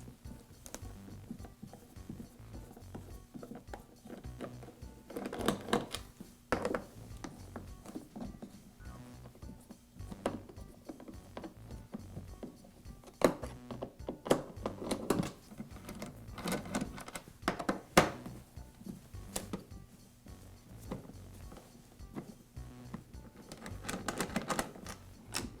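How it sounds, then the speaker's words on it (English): Screws being backed out of the top cover of a DeWALT planer with the small knife-changing wrench, giving scattered light metallic ticks and taps in irregular bursts, close up and fairly quiet, with no talking. "I can use the wrench that came with the planer for replacing the knives to remove these screws"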